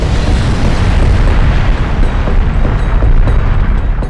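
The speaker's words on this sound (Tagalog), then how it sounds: "Ang bulkang Taal nagkaroon ng bahagyang pagputok o pagsabog at nagbuga ng abo mula sa bunganga nito." A deep, continuous rumbling roar from a minor eruption of Taal Volcano, loud and dense, booming without pause.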